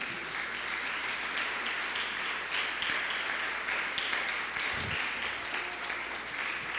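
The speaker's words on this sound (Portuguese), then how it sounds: "Você pode aplaudir Jesus?" A church congregation applauds, a dense and steady wash of many hands clapping at an even level throughout with no break.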